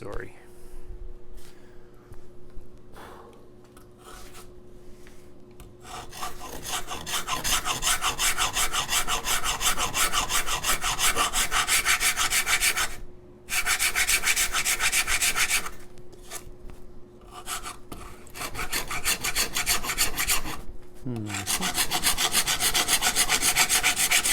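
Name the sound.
rasping and sanding wood for guitar arm bevel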